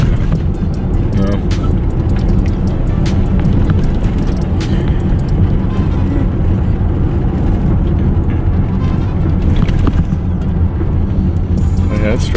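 Ford Edge with freshly changed spark plugs driving along, a constant low road and engine rumble heard from inside the cabin, steady and loud throughout, with people talking over it.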